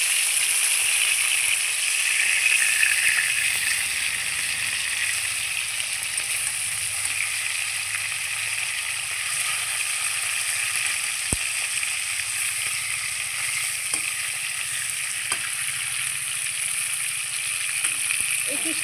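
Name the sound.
fish pieces frying in oil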